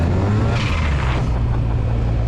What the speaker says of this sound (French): ce bruit de dump valve à chaque coupure de gaz